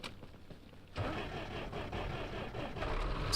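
A vehicle engine starting in ARMA Reforger: quiet at first, then a sudden turnover catches into a steady mid-pitched running rumble that holds close and fairly loud until the end.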